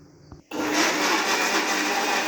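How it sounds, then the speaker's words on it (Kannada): A mixer grinder jar whirs into action blending chopped amla with lemon juice and a little water, a steady loud close motor roar after a brief quiet start. "ಒಂದು ಸ್ವಲ್ಪ ನೀರು ಹಾಕ್ಕೊಂಡು ಅದು ಮಿಕ್ಸಿ ಮಾಡ್ಕೋಬೇಕು"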